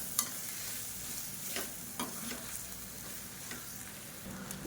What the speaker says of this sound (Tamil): போட்டு நல்லா பரட்டி விட்டுக்கலாம்